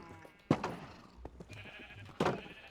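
Sheep bleating in Minecraft, two separate bleats about two seconds apart over faint game background noise, fairly close and moderately loud, with a smaller blip between them.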